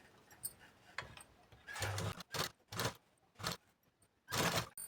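Household sewing machine stitching a blouse lining to its fabric, running in several short motorized bursts separated by brief pauses, with faint clicks and handling noise between runs.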